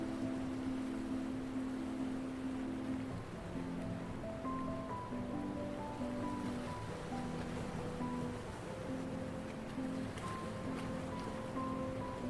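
Ocean waves washing steadily onto a pink sand beach of crushed shells and white quartz, a continuous broad roar of surf with faint tonal sounds layered over it.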